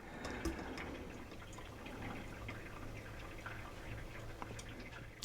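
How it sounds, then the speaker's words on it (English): Coffee drips through a Coava steel pour-over filter in a steady, faint patter of small droplets over a soft background hiss, with no talking. "you can hear it dripping through"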